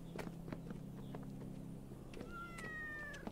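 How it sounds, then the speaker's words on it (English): A cat meows in the horror video game Yan: Parasomnia, with a rising, drawn-out cry near the end over a low background hum and scattered soft footstep-like taps. "Oh, I hear the cat"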